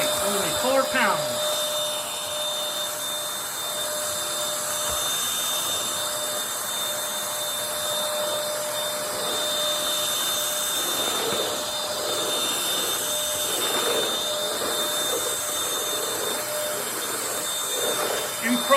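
Bissell 3 in 1 Turbo Stick 2610 vacuum cleaner running continuously with a steady motor whine and airflow hiss on a hard floor, close and fairly loud throughout.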